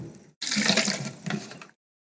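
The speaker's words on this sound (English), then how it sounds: "Let me get a swig of water in." Someone taking a swig of water from a bottle: a short sloshing, gurgling pour of liquid lasting just over a second, close and fairly quiet, then silence.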